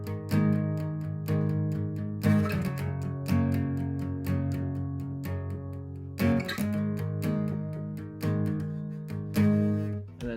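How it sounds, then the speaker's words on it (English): Electric guitar power chords played on the four lower strings, in the style of a particular song: strummed chords with crisp attacks and brief sustained stretches, close and alone with no voice. "He plays kind of a power chord kind of thing,"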